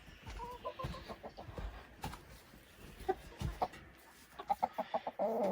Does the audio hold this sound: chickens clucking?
yes